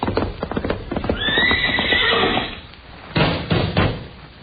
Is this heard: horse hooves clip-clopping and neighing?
yes